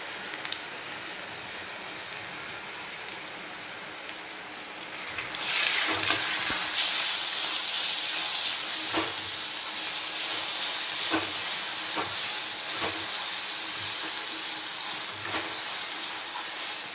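Chopped onion and finely cut green chili hit hot oil for a Hyderabadi-style mutton keema, bursting into a loud steady sizzle halfway through, with periodic scrapes of stirring over the hiss.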